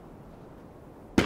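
Single sharp gunshot crack from a Fear the Walking Dead TV scene, sudden and loud at the very end after near silence.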